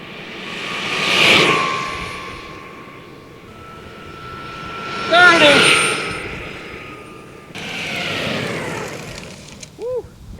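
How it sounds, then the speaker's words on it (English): Eovan GTS Carbon Super electric skateboard passing by outdoors three times, each pass a rising and falling motor whine and wind rush that swells loud up close and then fades away. "do some flyby footage so you can hear the skateboard and see exactly how fast it is"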